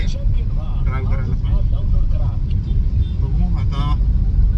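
Car driving on a rain-soaked road on the way toward Vashi, a steady loud rumble of engine and tyre noise throughout, with people talking over it.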